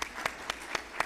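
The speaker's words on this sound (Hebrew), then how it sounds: "אתם יכולים למחוא כפיים." An audience claps in steady unison, five sharp, evenly spaced beats in about a second, each clap crisp and fairly close over a faint room background.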